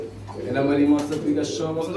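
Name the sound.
pigeons cooing at a pigeon farm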